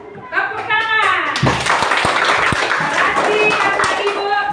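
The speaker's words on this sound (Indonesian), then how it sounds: "Tepuk tangan." Children clap their hands together in a classroom, a burst of quick applause breaking out after a voice, with speech continuing over the clapping.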